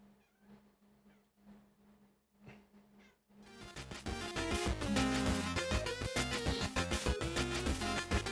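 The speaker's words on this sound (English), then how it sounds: "Also, my cat's here." A house cat meows a few times, faint and close, before loud game music starts and buries everything.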